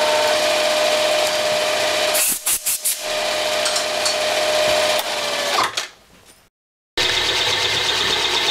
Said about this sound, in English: I'm using a center drill, but I'm just coming down and just barely putting a little dimple